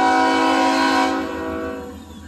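A BNSF freight train sounds its horn loudly and up close, a sustained multi-tone blast over the rumble of the passing cars that drops away, leaving the train noise.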